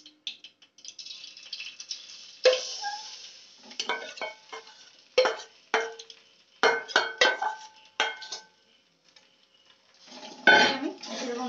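A utensil scrapes and knocks against a pan while ground peas are stirred in hot oil, giving repeated short metallic rattles in irregular bursts with quiet gaps between them.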